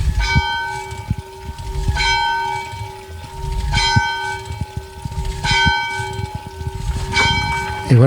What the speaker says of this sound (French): je vais tirer, on va faire sonner la cloche